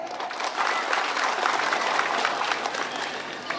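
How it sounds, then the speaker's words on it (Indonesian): A crowd claps at a thanksgiving ceremony for the regent and vice regent of Nunukan regency. The applause is steady and lively, lasts a few seconds and has no voices over it. "Tepuk tangan."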